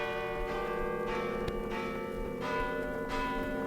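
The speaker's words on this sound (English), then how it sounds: "Listen, the bells." Church bells ring at midnight on Christmas in an old-time radio drama, a steady sustained tolling with repeated strikes about every half second, carrying on alone with no voices over it.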